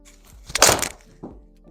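A TaylorMade P790 iron, 2025 edition, strikes a golf ball with one sharp, close impact: a short crack followed by a brief rush of sound. A faint voice is heard afterward.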